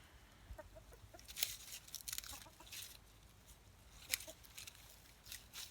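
Backyard chickens, including a white hen, clucking in scattered bursts at moderate distance, with faint outdoor ambience between calls and no talking.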